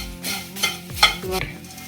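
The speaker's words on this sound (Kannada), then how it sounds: "ಸಣ್ಣ ಉರಿಯಲ್ಲಿ ಹುರಿಬೇಕು" Avalakki (flattened rice) is stirred in a pan over low heat, with a soft sizzle and a few sharp scraping clinks of the spoon against the metal. The sound is close, with no talk.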